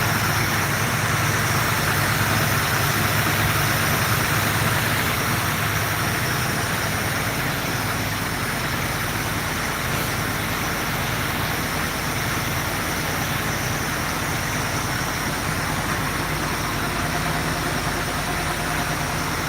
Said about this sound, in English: You can hear that tapping noise. I think it's either a lifter or the alternator's making noise